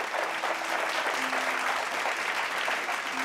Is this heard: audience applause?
yes